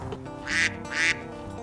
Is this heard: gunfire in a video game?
no